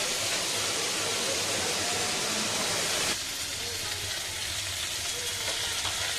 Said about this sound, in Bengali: কড়াইতে পেঁয়াজ এবার যা যা আছে পেঁয়াজটা একটু ভাজা ভাজা হলে তারপরে এইগুলো সব দিয়ে দেবো